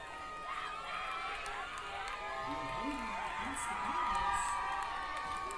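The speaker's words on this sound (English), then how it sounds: "you'll hear the crowd go nuts here as in comes Cohen Kaiser" A home crowd at a Plainville vs. Oakley high school district football game roars and cheers as a favorite player enters in the fourth quarter, a steady broad swell of noise under continuous commentator talk.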